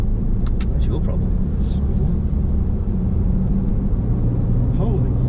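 Gen 2 Ford Ranger Raptor accelerating in sport mode, a loud continuous low engine rumble heard from inside the cab, with brief higher whines and knocks over it.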